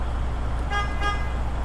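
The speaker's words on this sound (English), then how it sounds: "After that, I would like to check my city horn" Truck city horn honked once or twice in short bursts, moderately loud over steady idling engine rumble during a pre-trip air brake check.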